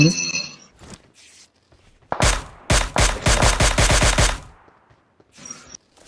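Rapid bursts of automatic gunfire in a video game, loud and close, a dense volley of about a dozen shots, with game sound and brief voices before and after.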